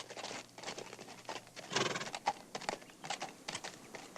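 Horse hooves clop in an uneven patter at moderate distance, with a brief whinny-like sound in the middle and no talking.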